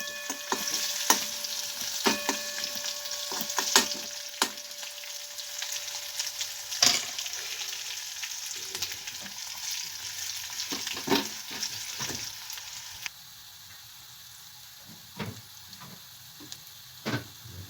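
Kadhi gole mixture sautéed in a pan, a steady close sizzle and frying hiss with scattered clicks and stirring knocks of a spoon against the pan, continuing without talk and dropping to a quieter simmer near the end.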